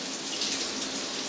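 Cold water runs from a tap into a basin, a short steady splashing stream heard up close.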